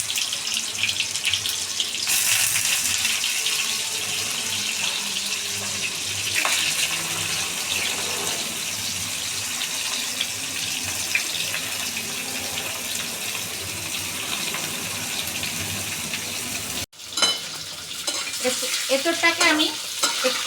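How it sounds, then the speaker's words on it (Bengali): Young jackfruit frying in a pan for a vegetarian biryani gives a continuous close sizzle with stirring scrapes and watery crackle, briefly cut off near the end before resuming. "দেখুন বন্ধুরা, আমি এঁচোড়টাকে ভেজে নিচ্ছি।"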